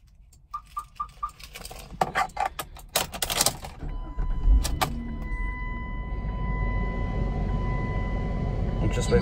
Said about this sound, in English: Let's just start her up.